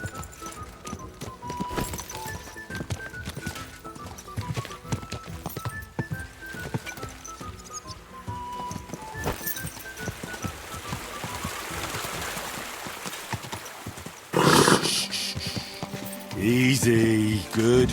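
Horse hooves clip-clopping in the video game Kingdom Come Deliverance II, a steady rhythmic trot over background music, ending with louder bursts of splashing-like noise and a whinny.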